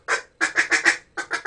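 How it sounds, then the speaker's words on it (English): A duck's nasal feed call, clucking through the nose while filtering silt for snails, grubs and grass tubers: one clear cluck, a quick run of four, then three more, loud and close. "a duck's feed call is they're going through silt to get snails and grubs and grass tubers"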